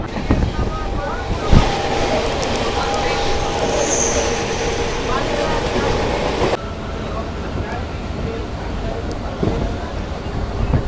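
A Howrah to Bandel local train rolls along at speed, a loud continuous rumble and rattle of wheels with rushing wind through open windows, a faint chatter of passengers in the carriage throughout.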